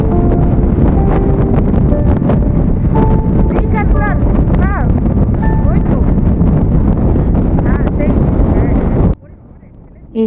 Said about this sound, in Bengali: এই হাওয়াই আমাদেরকে ঠেলে ঠেলে এক জায়গা থেকে আরেক জায়গায় নিয়ে চলে যাচ্ছে